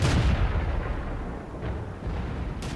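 The KV-1S tank's main gun fires in World of Tanks, sending out a single loud, deep boom at the start that rolls into a long rumbling tail, with a faint later thump.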